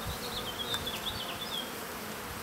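Soft, continuous buzzing of many honeybees inside an open hive, a wavering drone with occasional higher whines as individuals fly close; quiet and steady.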